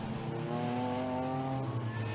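Race cars, including a Triumph TR4, lapping a circuit in a Swinging Sixties classic car race, engines droning and shifting pitch as they pass at moderate distance, with steady harmonic whine and no voice over them.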